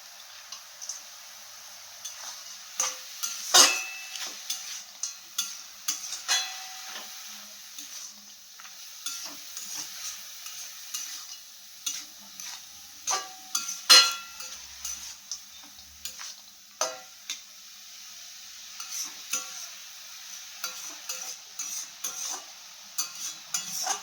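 Red amaranth greens (lal shak) fry with bori in a pan, sending up a faint sizzle with scattered sharp ticks and scraping stirs that come in irregular bursts close to the pan.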